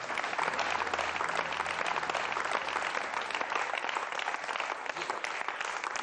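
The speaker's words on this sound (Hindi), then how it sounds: "ये ताली बजाने वाले जोरदार तालियों से स्वागत करें।" Loud, sustained audience applause welcoming a poet on a Hindi TV show stage, dense and steady clapping filling the whole stretch without a break.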